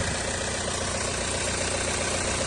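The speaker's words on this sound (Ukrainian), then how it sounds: "моторчик сухий візуально працює рівненько" A 2012 Kia Sorento diesel engine idles under an open hood, a close, steady rattling hum with an even, unbroken rhythm and no voices over it.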